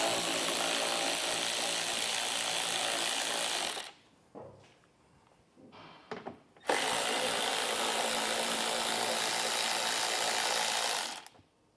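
A power tool whirs loudly while removing 10mm fascia bolts on a 2023 Tesla Model Y, running steadily for several seconds, pausing with faint clicks and handling noises, then spinning up again for another long run.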